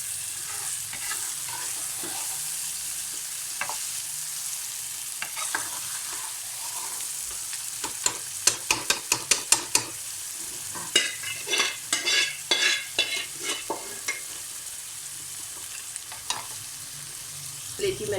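Chicken liver (kaleji) fries in a pan with a constant sizzling hiss, while a spatula stirs it in a cluster of sharp scraping clicks through the middle stretch.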